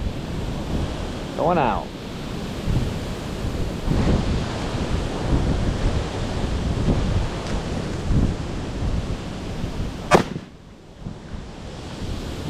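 Strong gusting wind rushes across the microphone and blows leaves past on a long-range shooting range, with a steady loud roar and buffeting throughout. A voice speaks briefly over it, and a sharp crack comes near the end.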